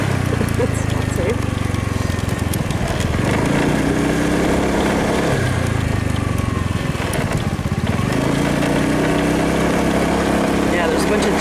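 A loud engine hums steadily while driving, its pitch rising and falling with speed, with a person talking over it.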